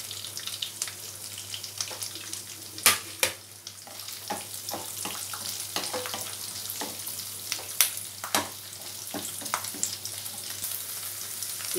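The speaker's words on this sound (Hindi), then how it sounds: "अब वही तेल जो बचा हुआ है उसमें हम काजू डाल देते हैं, लहसुन, गरम मसाला," Cashews, garlic and garam masala frying in leftover oil give a steady sizzle with scattered crackles and pops, plus a few sharper clinks of stirring, close and alone.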